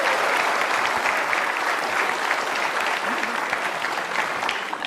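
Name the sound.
studio audience applause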